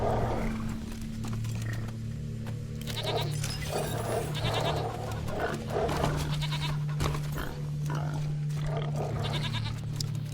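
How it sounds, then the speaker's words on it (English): A goat in the game Wasteland 3 gives repeated bleats and rough cries over a steady low tonal hum and background game sound, loud and close throughout. "It's a goat."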